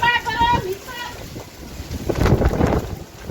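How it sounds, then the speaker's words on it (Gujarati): Strong storm wind gusts against the microphone outdoors, a broadband roar that builds and peaks partway through, with a voice speaking briefly at the start. "ફૂલે ફૂલ પવન ચાલુ થઈ ગયો છે."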